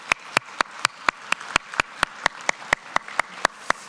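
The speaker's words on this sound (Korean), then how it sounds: "우리 박수로 한번 격려하도록 하겠습니다." Claps ring out in a church during a Sunday worship service, a slow, even series of sharp, distinct hand claps at a steady rhythm, fairly close and clear.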